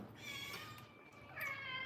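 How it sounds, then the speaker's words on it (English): Domestic cats meow insistently in a home kitchen while waiting for food, overlapping drawn-out calls fairly close and clear, with no talking. "So, who's behind me? My cats. They're just crazy right now."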